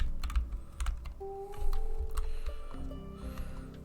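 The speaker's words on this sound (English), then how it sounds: "Hold on, my keyboard's fucked up." Rapid, uneven clatter of keys on a computer keyboard, close and fairly loud, with bursts of clicks and brief pauses over faint background tones.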